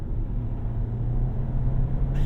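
A 2024 Hyundai Kona Limited 1.6T AWD accelerates hard from about 40 mph, its engine giving a steady, loud low rumble with road noise from inside the cabin, swelling slightly near the end.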